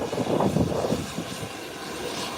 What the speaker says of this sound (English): And here is the Embraer 120 Intercaribbean heading into the nation's capital,